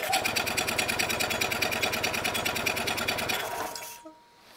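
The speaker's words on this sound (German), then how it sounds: "gebe mal mit der anderen Hand Gas" Two-cylinder golf cart engine revving under hand throttle during a valve clearance repair, a fast rhythmic close-up chatter that holds steady for several seconds, then cuts off abruptly.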